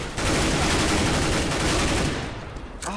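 Rapid gunfire through a wall in the CS:GO video game, a loud sustained burst of automatic shots lasting about two seconds before it tapers off.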